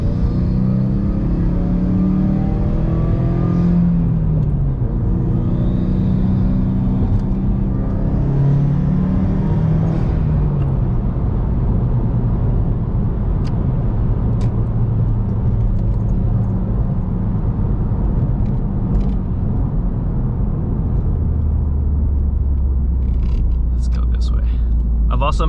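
A 2018 Subaru WRX engine pulls at wide open throttle while driving, a low rumbling drone that rises and falls in pitch through the gears, heard from inside the car under ongoing talk.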